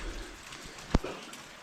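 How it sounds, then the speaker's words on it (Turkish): Soft, steady rain patter at low volume, with one sharp tap standing out midway. "Şimdi arkadaşlar yağmur yağıyor"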